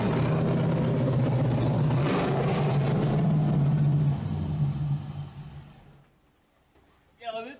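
A Datsun 260Z with an open header, its engine loud and rumbling close by, then dying away into quiet, with a voice briefly heard at the end.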